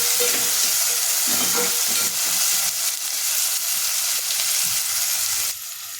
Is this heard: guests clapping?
no